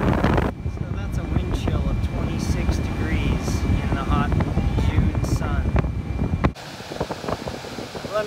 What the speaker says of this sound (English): So that 50 degree air is coming out at 44 miles an hour out this duct opening here.